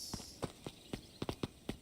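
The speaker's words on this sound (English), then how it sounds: "heard a group of footsteps approaching" Several footsteps from a small group approaching outdoors, about nine distinct soft steps in an uneven rhythm, fairly close and moderately quiet, with no voices.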